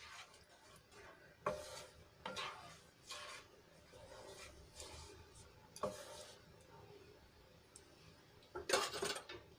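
Buttermilk and water being stirred into a gravy in a pot, heard as intermittent scraping and clinking of a spoon against the metal pot, with several sharp stirring strokes at uneven intervals, fairly quiet and close.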